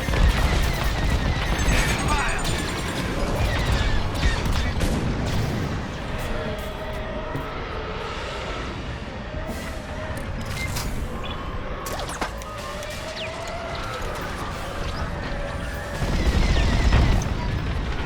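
Starfighters firing on and destroying a frigate in the Star Wars Squadrons space-combat game: a steady, loud barrage of blaster fire and explosions over a rumbling bed, swelling again toward the end, with radio chatter mixed in.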